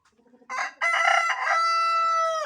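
A rooster on a Ukrainian backyard farm crows once, loud and close, a rising then long sustained cock-a-doodle-doo after a few soft clucks.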